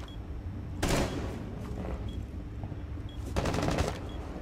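Gunfire through windows in Rainbow Six Siege: two sharp bursts of rapid automatic fire, each lasting under a second, separated by a quieter pause with faint clicks over a low background hum.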